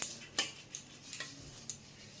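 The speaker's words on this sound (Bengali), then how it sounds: "এই ডিশটাতে আমি একটু তেল গুলিয়ে নেবো, ফুটো ফুটো দিয়ে।" A utensil clinks and taps against a dish while oil is mixed in for a vegetarian recipe, with a handful of sharp, close metallic ticks spaced irregularly over a quiet background.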